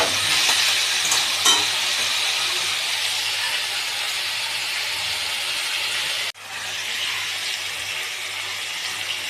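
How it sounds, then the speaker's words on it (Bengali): Vegetables stirred and frying in a pan give a steady, close sizzle and hiss that runs throughout, briefly dipping near the end, with no speech. "একটুখানি নেড়ে নেওয়ার পর এবারে একটু নুন দেব, তাহলে সবজিগুলো তাড়াতাড়ি ভাজাও হয়ে যাবে"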